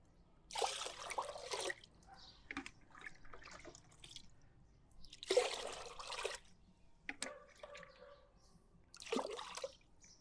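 Rice-rinsing water mixed with clean water is poured for soaking orchids, coming as three loud splashing bursts with softer trickles and drips in between, no voices.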